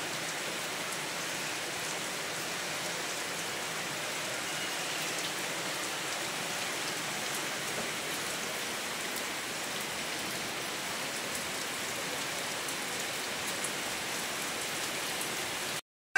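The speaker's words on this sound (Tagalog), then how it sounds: "Nag-ulan nagyod." Steady rain patters continuously on a surface, a soft even hiss that holds throughout before cutting off at the end.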